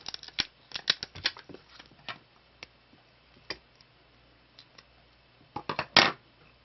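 Scissors snip threads during bead embroidery of a white-and-crystal bridal headband with rhinestone chain and synthetic pearls, the blades gummed and sticky. Sharp close clicks and snips come in irregular bursts, with a louder cluster near the end.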